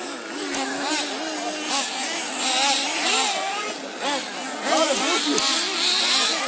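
An RC nitro car engine on a motocross track gives a high, buzzy whine that rises and falls as it revs and eases off, fairly close and continuous across the run.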